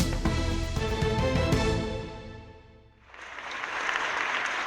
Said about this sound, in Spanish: Miles de aplausos desde ventanas y balcones como homenaje a los sanitarios